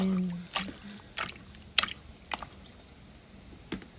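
Shrimp being washed by hand in a bowl of water, giving soft intermittent splashes and squishy sloshes in a quiet kitchen, each burst short and close.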